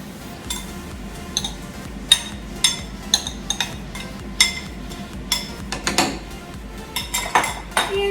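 A metal whisk works a cream sauce of cream cheese, Parmesan, salt and pepper in a pan for chicken Alfredo, giving irregular bright clinks and scrapes against the pan, close and clear, with no talking.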